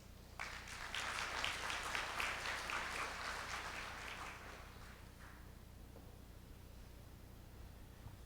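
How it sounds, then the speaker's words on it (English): A conference audience at an international development forum in Seoul applauds a keynote speaker, a burst of distant clapping that builds quickly, holds for about four seconds, then fades into quiet room tone. "Please welcome her with a big round of applause."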